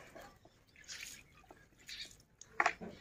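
Water sprinkled by hand onto a lump of clay on a hand-turned potter's wheel, heard as faint, scattered drips and soft splats, with a few louder wet hits toward the end.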